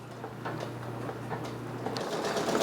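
A Brother Persona PRS 100 embroidery machine stitches satin stitches, giving a steady, fast mechanical whirring hum with faint rhythmic clicks, close and continuous throughout.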